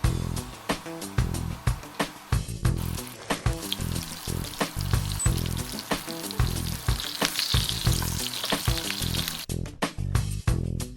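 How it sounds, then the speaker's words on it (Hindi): Shaped kebabs for a Big Mac–style burger frying in hot oil, a loud continuous sizzle and crackle with rhythmic bursts of spattering and a few stirring or turning knocks, close and without voices. "कबाब फ्राई हो गए"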